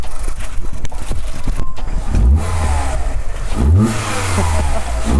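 A VW Polo Mk5 1.4 fitted with a performance air filter revs up loudly and close by. The engine climbs in pitch twice, then drops back to idle between the two rises.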